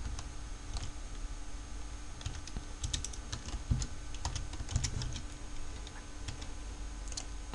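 Steady, close typing on a computer keyboard while an organization name is entered during a Windows 2003 setup, with rapid irregular key clicks continuing throughout over a faint background hum.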